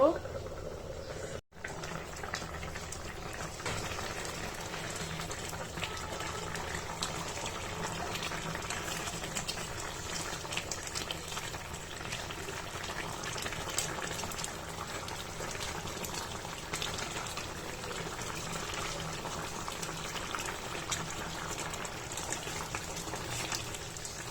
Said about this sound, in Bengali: ঝোলটা আরেকটু কমবে মাছ সিদ্ধ হয়ে গেছে